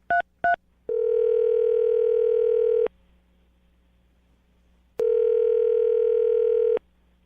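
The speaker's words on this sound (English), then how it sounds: "I'm going to dial the phone number right now" A telephone being dialed for a radio call: two short keypad beeps, then two long steady tones separated by a pause of near silence, clear and close.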